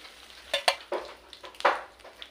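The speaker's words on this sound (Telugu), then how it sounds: "ఈ రొయ్యలు కూడా లైట్గా ఫ్రై అయితే సరిపోతుందండి" Dried prawns frying lightly in a pan, with short sizzling bursts and several stirring scrapes in an irregular rhythm, close by with no voices.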